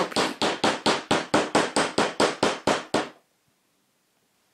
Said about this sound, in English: You may need a hammer to help you.